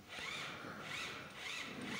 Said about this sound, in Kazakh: Енді осы белгілеген жерден арнайы ағаш тесетін бұрғыменен